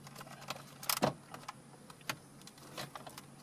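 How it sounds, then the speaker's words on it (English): A plastic screen bezel pries loose from the dash of a 2015 Ford Mustang, giving a few close, light clicks and rattles with a sharper burst of snapping near the middle, and no talking. "You can put your fingers underneath the top edge here and just pull out, and it'll unsnap."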